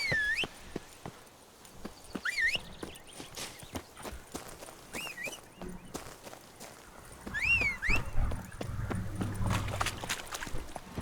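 Horse hooves in The Witcher 3: Wild Hunt clopping along at a steady rhythmic pace, with a few whistles and whinny-like calls over the game ambience.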